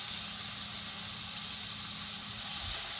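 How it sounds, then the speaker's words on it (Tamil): Finely chopped medium onion sautéing in a hot pan with cumin seeds for a capsicum paneer masala, giving a steady, close sizzling hiss that runs unbroken throughout with no talking. "இதை நல்லா வதக்கிக்குங்க"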